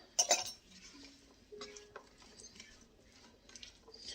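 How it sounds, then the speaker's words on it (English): A spoon stirs chicken creole in a metal pot, giving a few light clinks and scrapes against the sides, close but soft, with quiet gaps between the knocks. "Let's give all that a stir."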